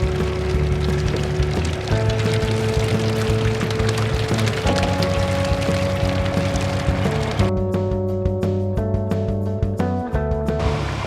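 Rain falls on a narrowboat on a canal, a steady patter on the roof heard close and continuous under a backdrop of music with sustained tones.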